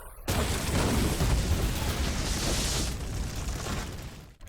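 A missile explosion in a film action scene, a sudden loud boom that rolls into a long, dense rumble and sustained roar, staying heavy for several seconds before cutting off.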